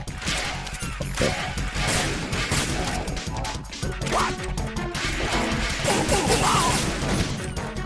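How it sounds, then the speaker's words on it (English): Dense, loud gunfire and crashing impacts from the video game Metal Gear Solid 2 Master Collection on PC pile up continuously for several seconds, a busy barrage with no clear gaps. "These gunshots are fucked."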